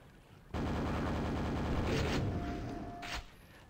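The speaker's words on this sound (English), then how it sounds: "And you know what kills them ASAP? The super nail gun." Super nail gun in Quake fires a rapid, continuous rattling burst of nails for about three seconds, loud and close, then cuts off with a short trailing clatter.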